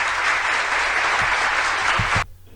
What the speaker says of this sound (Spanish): Tenemos aplausos